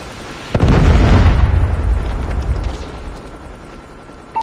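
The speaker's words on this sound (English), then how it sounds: "Predator missile inbound." A Predator missile strike explodes in Call of Duty Mobile: one sudden, loud, deep blast whose rumbling boom decays slowly over several seconds, with a small pop at the very end.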